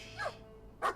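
Two short yappy dog-like barks voiced by a cat character in the video game Gibbous, spaced apart and fairly close, over a faint quiet background.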